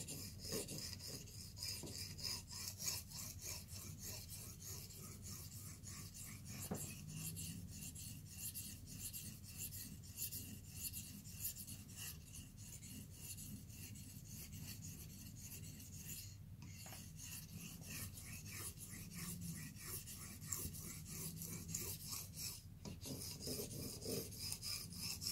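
A knife scrapes steadily across 100% concentration Blitz 360 abrasive stones, a quiet continuous rasping with a few short gaps.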